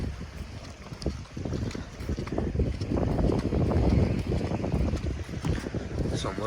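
A boat moving through foggy water near the Shivaji Park shoreline on a fishing trip, its steady broadband engine and water rumble swelling in the middle, with wind buffeting the microphone throughout.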